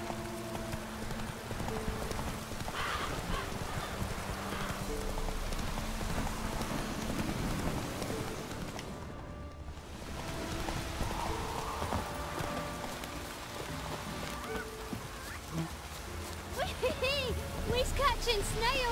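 Roach the horse trots in The Witcher 3 with steady, rhythmic clip-clop hoofbeats, layered over rain, music and game noise, with a voice speaking partway through.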